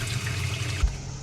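A toilet in an RV on a city water hookup with no pump flushes, giving a steady rush of running water close by that surges briefly near the end.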